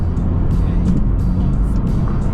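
BMW M6 cruising on a highway, heard from inside the car as a steady, loud low rumble of engine and road noise that stays even throughout.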